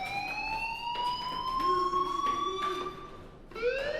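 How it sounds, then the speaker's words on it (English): A fire alarm in the video game Life Is Strange rings as a steady, piercing electronic tone with sweeping harmonics, briefly cutting out and restarting near the end, no speech over it. "Hey, do you hear that fire alarm?"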